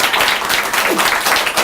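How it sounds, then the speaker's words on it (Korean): Brief audience applause at a campaign office opening for a Korean Justice Party candidate, a dense, loud burst of many hands clapping together. "예, 박수 한번 쳐주세요."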